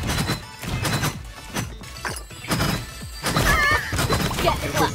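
Horse neighing in the video game Realm Royale, a loud whinny among thuds, crashes and hoof clatter, with gameplay noise throughout.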